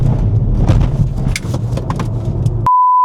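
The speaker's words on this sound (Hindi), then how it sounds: "let's just do a pull because this is a BMW" A BMW luxury electric car accelerating hard after a stretch in efficient mode, heard as a steady low rumble with wind and road noise from inside the cabin, ending abruptly in a sustained electronic tone.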